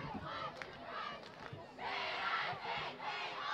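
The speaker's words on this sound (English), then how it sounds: "the Fredonia Hillbilly cheerleaders get the crowd going with the classic victory chant" At a Fredonia High School varsity game against Randolph, the Fredonia Hillbilly cheerleaders lead the crowd in a victory chant: a loud mass of voices shouting in rhythmic bursts that swell toward the end, heard from within the stands.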